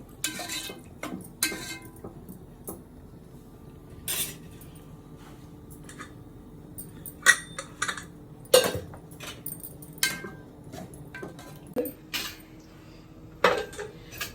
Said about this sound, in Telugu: కాస్త కొత్తిమీర, మొత్తం ఒకసారి కలుపుకోవాలి.